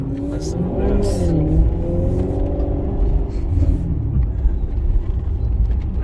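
A Maserati GranTurismo engine runs steadily with a deep, layered rumble and rising and falling revs, close and fairly loud, while a person talks over it.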